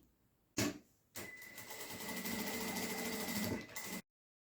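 A sewing machine stitches along the edge of an EVA foam piece for an Easter craft, opening with a short burst and then a steady, close whirring run of about three seconds before stopping abruptly.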